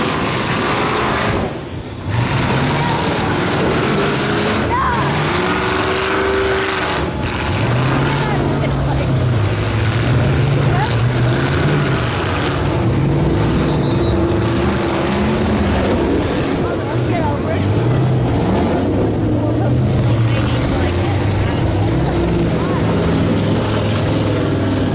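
Five short buses rev their engines in the south corner of a demolition derby ring, several engines rising and falling in overlapping revving sweeps with clatter, under ongoing commentary.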